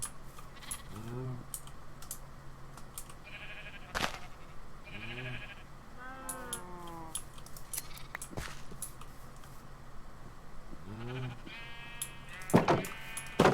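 Several sheep bleat at intervals in Minecraft, some close and some farther off, over a quiet background with occasional clicks and taps.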